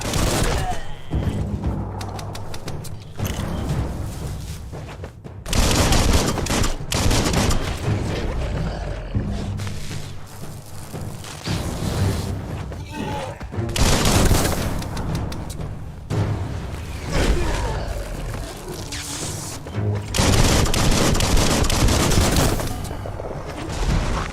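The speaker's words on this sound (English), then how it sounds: "Bullets everywhere." Gunfire and explosions in the action game Biomutant, a dense, chaotic barrage of shots, booms and thuds coming in heavy waves with brief lulls between them.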